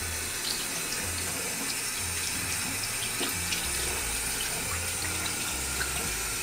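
Tap water pours steadily from a faucet, a close, even rushing stream that never lets up and has no talking over it.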